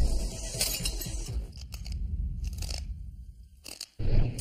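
Glass is bitten and crunched between the teeth in several sharp, brittle bursts separated by short pauses, loud and close with no talking.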